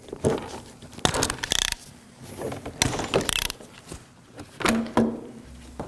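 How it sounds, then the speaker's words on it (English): Close-up clicks, snaps and plastic handling noises come in short bursts as rivets go through a front inner fender liner flap on a 2013-2019 Nissan Sentra, with quiet pauses between the sharp metallic pops. "Now we're going to take our flap and install our 3/16 and 5/8 rivet."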